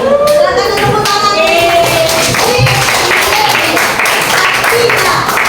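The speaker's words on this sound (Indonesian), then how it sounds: "Silakan tepuk tangan." A room of children or students clapping hands in applause at a teacher's prompt, a dense continuous patter that stays loud throughout, with voices talking and calling out over it.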